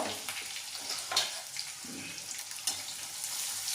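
Ingredients for bisibele bath frying in ghee in a pan, a steady close hiss of sizzling with faint crackles and a few brief scraping stirs, no voices.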